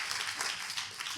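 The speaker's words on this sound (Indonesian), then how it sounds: "kalau mau tepuk tangannya yang paling meriah buat Yesus Tuhan kita" Church congregation clapping in applause for Jesus during a sermon, a dense, steady wash of many hands at moderate distance.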